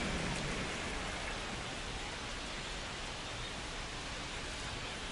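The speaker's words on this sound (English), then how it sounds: "This rain is not letting up." Steady, heavy rain keeps falling during a baseball video game, a dense, even hiss that carries on without a break and with no voices over it.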